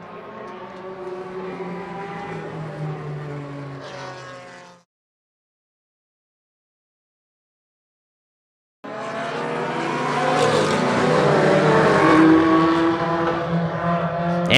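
Race cars roar past on a track in a 2023 racing broadcast, a loud engine drone that cuts out to silence midway, then returns louder and harsher as the pack surges back.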